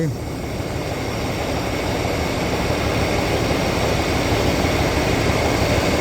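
A freshly rebuilt engine runs steadily on a test, a loud continuous drone with a constant tone and no breaks.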